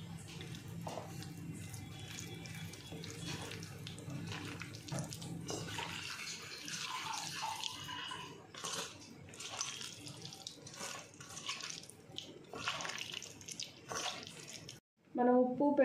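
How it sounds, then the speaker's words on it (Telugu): Water pours steadily and softly from close by over cut bitter gourd pieces mixed with salt and turmeric in a bowl, then stops near the end, followed by a brief clink. "ఈ ముక్కలు మునిగిన దాకా నీళ్ళు పోసుకుండండి"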